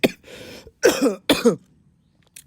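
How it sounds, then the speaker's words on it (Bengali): A few harsh, close coughs in quick succession, throaty and forceful, followed by quiet and a faint short sound at the end. "দুঃখিত গাইজ আবারও কাশি দেওয়ার জন্য"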